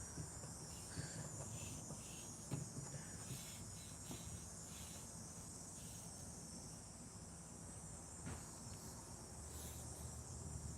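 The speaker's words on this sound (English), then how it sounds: "The sounds of summer with the cicadas just doing their little buzzing sound thing that you're hearing right" Cicadas in summer give a steady, high, continuous buzzing drone that fills the whole stretch at an even loudness, with no voices.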